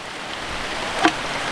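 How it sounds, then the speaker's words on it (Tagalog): Rain pouring steadily during a storm, a dense even hiss close by with one small splash or drip standing out briefly. "Ulan-ulan mga katropa."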